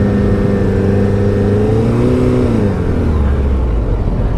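A 2016 Suzuki Hayabusa 1340cc motorcycle engine runs loud and close, holding a steady drone that rises and then drops in pitch as the bike is ridden, with no other sounds.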